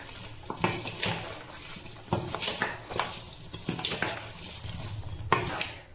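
Spices and salt are worked into mango pickle with a spoon in a metal vessel, making repeated irregular scraping and clinking strokes close by for several seconds, with no talk.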